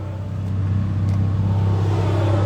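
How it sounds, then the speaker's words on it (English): A loud truck drives past on a nearby road outdoors, its steady low engine rumble and droning hum holding strong and close for the whole stretch, with no talking. "got a truck going past, team."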